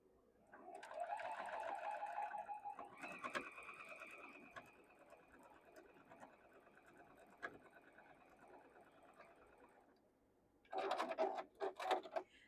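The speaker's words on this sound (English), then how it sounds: "We're going to sew it down here with a 1/4 inch seam." A sewing machine runs a quarter-inch seam on a Tula Pink modern quilt block, whirring for a few seconds, then a quieter hum with small clicks, followed by a final short burst of stitching near the end.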